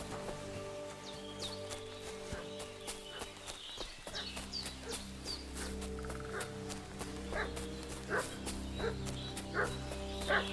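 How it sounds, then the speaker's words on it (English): A dog barks repeatedly in the medieval village setting of the video game Kingdom Come: Deliverance 2, a string of sharp, fairly distant barks over ambient music, with clopping hoofbeats mixed in. "What's that dog making such a fuss about?"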